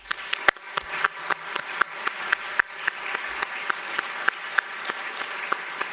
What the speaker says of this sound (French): Je vous demande également de les applaudir